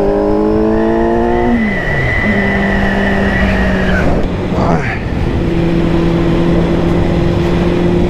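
Kawasaki Z800 motorcycle with an Akrapovic exhaust riding off, a loud, close engine note that rises through the gears, drops on a shift and climbs again as it pulls away, with a voice heard over it.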